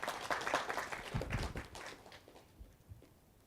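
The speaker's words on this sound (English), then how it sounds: "giving my team a big round of applause for all the excellent work so far" Conference audience at an analytics and big data summit in Bangalore applauding, a quiet burst of scattered clapping that thins out and fades toward the end.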